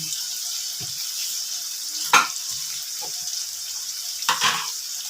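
Eggplant pieces frying in a pan give a steady, moderate sizzle, broken by a couple of sharp clatters and scrapes as they are stirred or dropped in.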